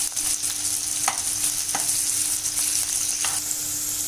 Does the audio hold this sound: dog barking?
no